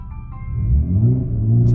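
A Nissan Gloria Y32 engine idles and revs up close, a deep low rumble that swells over under two seconds, with no talking over it.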